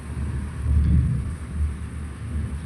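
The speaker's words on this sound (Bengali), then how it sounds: "আমাদের এখানে মেঘ ডাকছে" Deep rolling thunder swells and fades over steady rainfall, a low rumble that peaks briefly near the start and then settles into a softer drone.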